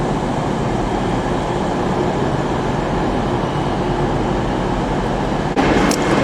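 A train pulls into a busy railway platform, its steady, loud rumble running unbroken throughout, with a brief brighter screech or clatter near the end.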